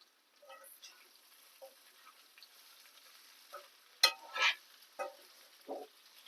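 Coriander powder frying gently on a low flame, soft crackle and occasional scraping taps, with a couple of louder stirring scrapes midway, fairly quiet overall.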